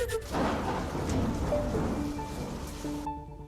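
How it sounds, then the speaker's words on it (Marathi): Heavy rain pours in a dense, steady hiss with a deep rumble underneath at Ram Kund in Nashik, then cuts off abruptly near the end. "सध्या नाशिक आणि परिसरात देखील जोरदार पाऊस बरसतोय"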